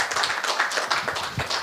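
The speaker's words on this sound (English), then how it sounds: "Clap for Jimmy." Audience clapping for a speaker at an investment forum in Houston, a short burst of dense, steady hand claps from a nearby crowd.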